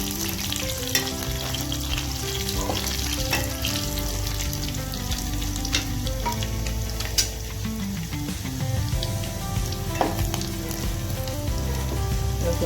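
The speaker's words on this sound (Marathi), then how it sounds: "चांगला सोनेरी रंगाचा होईपर्यंत परतून घ्यायचं आपल्याला" Garlic frying in oil until golden for a Maharashtrian kadhi, a steady close sizzle and crackle with occasional stirring scrapes, running continuously with no talk.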